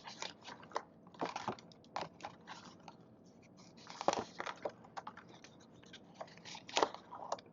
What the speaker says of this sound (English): Using the back of my scissors because it's so much easier to remove tape like this.